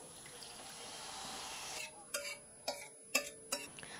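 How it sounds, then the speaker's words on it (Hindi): A glass of water hits a hot tawa while chicken tikka masala is being cooked, making a soft steady hiss for almost two seconds, then several sharp ticking pops as it settles, quiet and close. "मैं एक गिलास पानी डाल रही हूँ यहाँ पर"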